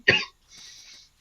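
A commentator casting a StarCraft match gives one short, sharp cough, followed by a softer breathy throat sound.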